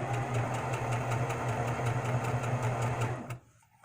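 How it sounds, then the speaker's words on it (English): A serger sewing machine stitches fabric in a steady, fast mechanical whir with a rhythmic ticking pulse, loud and close, running continuously before stopping abruptly near the end. "No, I'm using a serger."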